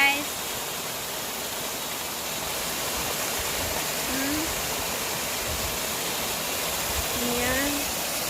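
A water fountain in Civic Park, Warragul, Victoria, Australia gives a steady, full rushing splash that continues throughout, with faint voices nearby.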